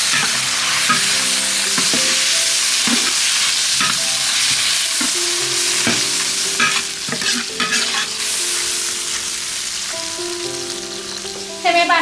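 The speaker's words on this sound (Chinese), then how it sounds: "再加一勺豆瓣酱，切好的肥肠放进去" Pig intestines are stir-fried in a wok with bean paste, scallion, ginger, chili, Sichuan peppercorn and bay leaf. A loud, continuous sizzle is broken up by repeated scraping and clanking strokes of the spatula, with no voices.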